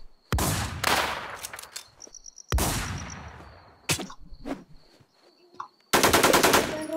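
Bursts of automatic gunfire in the video game The War Z, loud and close, several rapid volleys separated by short pauses and ringing tails.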